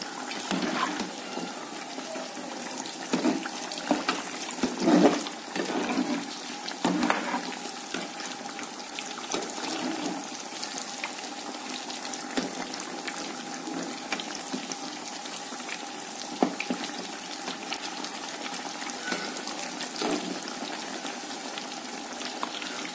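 Potato and onion fritters made from boiled, chopped potato and sliced onion sizzle steadily in hot oil as they are turned, with a continuous close crackle and a few louder spatters.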